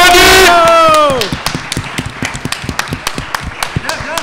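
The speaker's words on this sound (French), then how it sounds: "On l'applaudit !" A loud voice calls out briefly in French, then scattered rhythmic clapping from a small conference audience follows, distinct individual claps close by.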